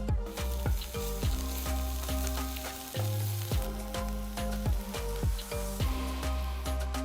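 Chopped garlic, ginger and green chilies sizzle and crackle in hot oil in a wide pan, with a utensil repeatedly scraping and stirring the pan in a steady rhythm.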